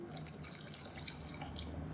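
Coconut milk being poured into a boiling mutton curry (kulambu) gives a soft, continuous liquid splashing and bubbling sound. It is fairly quiet and steady throughout, with no talking.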